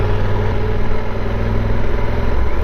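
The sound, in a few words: motorcycle engine while riding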